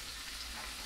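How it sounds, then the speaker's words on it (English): Fish dropped into hot frying oil, giving a loud, dense, steady sizzle that stays close and constant throughout. "Oil's ready. We're dropping this in. It's going to be hot. You're going to hear sizzle."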